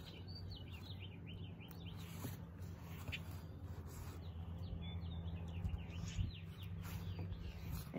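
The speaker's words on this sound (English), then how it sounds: "Red-winged blackbirds are clearly not happy I'm outside right now. They're sassing quite a bit. I don't know if you can hear them, but they are loud." Red-winged blackbirds calling outdoors, repeated sharp chirps and whistled notes scattered across the stretch, fairly faint against a low steady hum.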